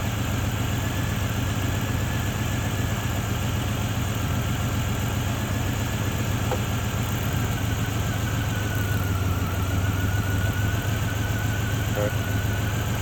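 A rebuilt Buick Grand National engine idles steadily after a tune-up, with a continuous low rumble held close and loud for the whole stretch.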